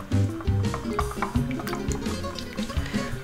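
Sweet rice vinegar and fat-free mayo being poured and mixed for a taco sauce, with wet glugging, dripping and squishing sounds close up and fairly loud, plus a few knocks against the container.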